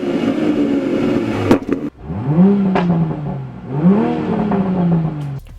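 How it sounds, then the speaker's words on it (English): Toyota car exhaust in sport mode, quiet and muffled: two or three rising revs with a soft low burble that falls away between pulls, close and fairly loud, with no voices. "The exhaust sound is very muffled and it's very tiny little bits of burble"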